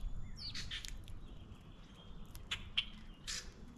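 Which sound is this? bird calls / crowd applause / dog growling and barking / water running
bird calls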